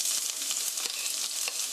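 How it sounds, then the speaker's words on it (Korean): Chopped onion and garlic fry in hot oil in a pan, giving a steady, close, dense sizzle with small pops and crackles throughout and no voices. "양파가 노릇노릇하게 될 때까지 볶아주세요"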